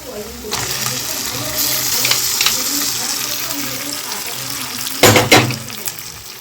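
Onion and tomato frying in a pan for ghugni as soy sauce is poured in, a steady broadband sizzle with a louder burst of spitting near the end, close and alone without speech.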